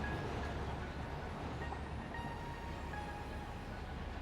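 Trains rolling along rail lines in the Satisfactory factory game, including a Caterium train, a steady continuous rumble with faint higher tones and no talk.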